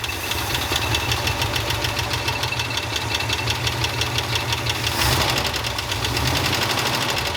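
An old Ford F-250 engine, abandoned for 21 years, runs roughly and loudly, knocking with a rapid uneven rhythm, close by, with a brief surge near the end.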